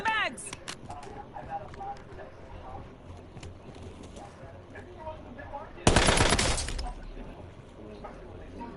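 Automatic weapons fire in the video game Call of Duty: Black Ops 7, rapid bursts early on and a loud heavy volley later, mixed with shouted voices and battle noise.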